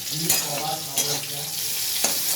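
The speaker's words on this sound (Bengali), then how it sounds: "উচ্ছে ভাজা হচ্ছে" Bitter gourd frying in a pan of oil, a steady close sizzle with occasional louder crackles and stirring scrapes, no voices.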